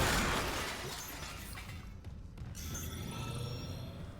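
An object breaking in the Dead Space Remake video game: a loud shattering crash at the start that fades into a dim, rumbling game ambience.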